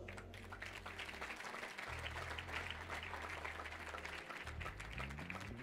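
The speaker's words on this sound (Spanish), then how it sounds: "Déselo el aplauso" A church congregation applauding during a sermon, a steady wash of many hands clapping that holds for several seconds over low organ or keyboard chords, with no talk.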